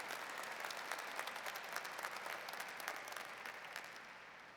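A graduation ceremony audience claps steadily, a sustained wash of many hands filling a large venue, heard from a distance at moderate volume and tapering off at the end.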